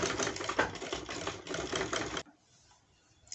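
A sewing machine stitches gathers into fabric, running in a fast continuous rattle for about two seconds before stopping abruptly and leaving near silence.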